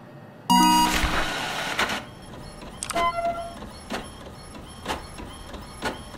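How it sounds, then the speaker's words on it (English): A 1990s-style printer in the video game The Mortuary Assistant starts with a loud whirring feed burst, then prints in several regular mechanical passes about a second apart, fairly close and alone. "What kind of printer is this?"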